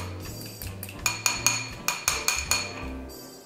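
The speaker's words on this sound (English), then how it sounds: "We want to whisk the ingredients so that we get a nice pasty mixture." A whisk clinks repeatedly against a bowl while a thick garlic paste mixture is beaten, with sharp metallic taps in an irregular rhythm, close and alone.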